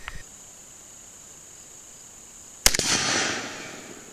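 One sharp, loud rifle shot from a scoped rifle fired outdoors, a sudden crack followed by a short trailing echo, with a faint insect-like whine in the background before it.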